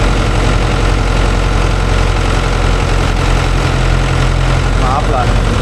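A Mahindra tractor engine idles after its RPM is cut, a loud, close, steady low rumble with a fixed rhythmic throb throughout.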